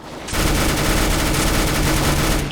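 A close, loud, unbroken stream of rapid gunshots from a pistol in CS:GO runs for about two seconds, crackling densely with no gaps, and no talk over it.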